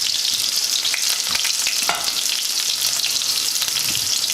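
Chopped onions frying in a pan for Jamaican ackee and saltfish, a loud, dense, steady crackling sizzle close up, with a few faint stirring knocks and no talking.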